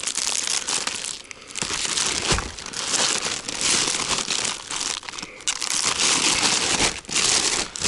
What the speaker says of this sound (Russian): Распакую аккуратненько, потому что, говорю, вот эти пакеты, они в дальнейшем пригодятся